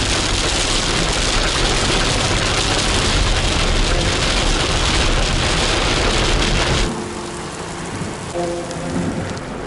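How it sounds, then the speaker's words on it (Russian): Heavy rain pours on a beach at Nikolaevka in Crimea in summer, a loud, dense, continuous roar with low rumbling, easing to a quieter patter and distant hum for the last few seconds. "Вот такая дождливая погода сегодня в Крыму."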